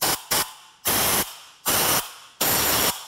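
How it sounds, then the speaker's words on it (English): Five sharp bursts of compressed air spraying into the spark plug holes of a 2011-2015 Chevy Cruze engine, short hissing blasts of varying length separated by brief gaps, loud and close. "take some compressed air and just spray down in the spark plug holes"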